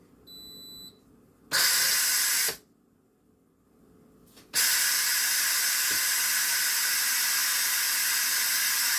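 An Instant Pot vents steam after cooking Zuppa Toscana soup: a short beep, then loud bursts of hissing steam that stop and restart before settling into a steady, forceful hiss.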